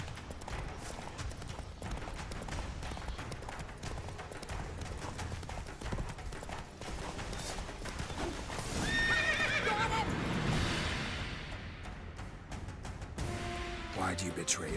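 Roach the horse in The Witcher 3 gallops with rapid clip-clop hoofbeats and lets out a loud whinny partway through, under game music and voices of characters talking.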